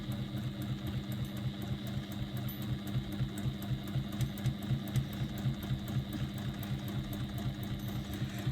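A sewing machine runs steadily while stitching a fabric wrist strap beside its hardware, starting with a back stitch; a fast, even mechanical chatter with a low motor hum continues close by throughout, with no voices.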